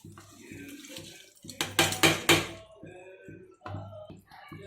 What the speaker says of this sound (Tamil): நம்ம மஷ்ரூம் போட்டு தண்ணி நல்லா சலசலன்னு கொதிக்குது